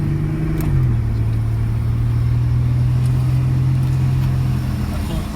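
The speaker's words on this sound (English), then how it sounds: "Engine runs on all 6, no misfires." A Japan-only twin-turbo six-cylinder car engine idles steadily and smoothly, its low hum holding even with a slight dip early on, running alone without talk.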